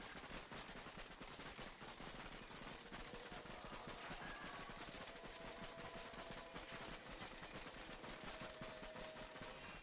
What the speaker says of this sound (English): It doesn't shoot nails at random direction. It's actually a pinpoint accurate turret.